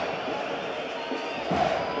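A stadium crowd at a Urawa Reds versus Kashima Antlers football match sends up a loud, sustained roar of booing that swells near the end, with a commentator's voice speaking over it.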